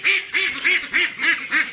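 Ducks at a food bowl quack in a quick, regular series of about seven loud, close calls, one after another.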